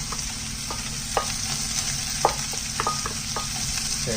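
Vegetables tossed into a hot pan of sesame oil, garlic and onion for a vegan pineapple fried rice stir fry, giving a steady sizzle broken by a few sharp clatters of stirring, close and without voices.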